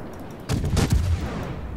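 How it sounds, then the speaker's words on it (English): Naval guns fire in World of Warships: a short cluster of booming shots arrives in quick succession, heavy and fairly close, then fades into a low rumble. "No, just random shots into the smoke"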